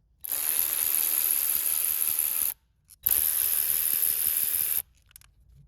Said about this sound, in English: Use your 10mm socket to take out the bolts.